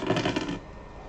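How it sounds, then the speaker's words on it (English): A handful of dice rolled onto a surface for a story game, a brief clattering burst of several rattling impacts that quickly dies into quiet. "Let's roll these dice."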